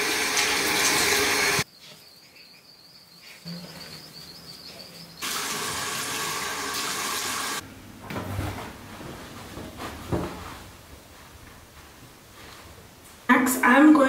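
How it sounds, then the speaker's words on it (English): Water running from a bathroom tap in bursts, a bright hiss switched on and off a few times, with quieter handling sounds and talk in between. "Next, I'm going to turn my water extremely hot."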